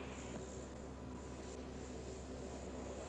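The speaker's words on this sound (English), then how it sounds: "As the plane passes through the center," An airplane flying through the eye of a hurricane gives a constant, dense engine drone heard from inside the cabin. The roar is loud and unbroken, with no talk.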